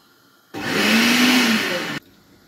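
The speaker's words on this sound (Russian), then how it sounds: "Базилик сейчас перекручу я в блендере" An electric blender chops fresh basil with water in a home kitchen for a basil sauce, roaring at a steady high whir for about a second and a half before cutting off abruptly, with nothing else heard.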